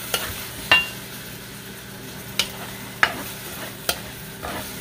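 Marinated duck is stir-fried with tomatoes, giving a steady sizzle punctuated by sharp scrapes and clanks of a utensil against the pan at irregular intervals.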